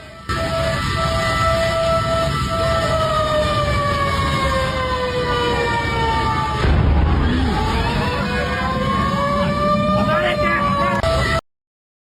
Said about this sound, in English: the sound of whispers and fire truck sirens added to the intense atmosphere